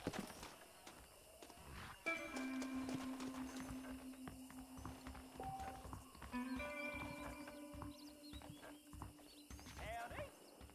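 In Red Dead Redemption on Xbox One, a horse's hooves clop along at a steady walk beneath sustained game music, with a whinny-like sound and a person talking at points.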